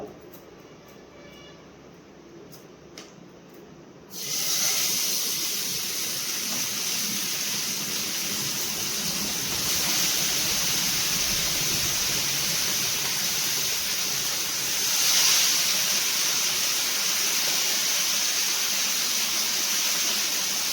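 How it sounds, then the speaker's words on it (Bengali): Pieces of fish dropped into hot oil set off a sudden loud, dense sizzle after a quieter opening, then a continuous roaring hiss that holds at a steady level. "তেলটা কিন্তু সুন্দর গরম হয়ে গেছে। আমি এবার দিয়ে দেবো মাছগুলো।"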